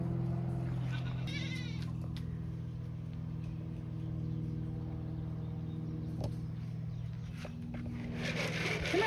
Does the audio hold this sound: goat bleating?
yes